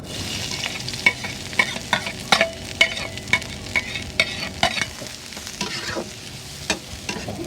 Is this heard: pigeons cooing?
no